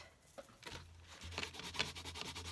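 A rubber stamp rubbed back and forth on the wet side of a Stampin' Scrub cleaning pad, giving soft, close, repeated scrubbing strokes in a quiet room.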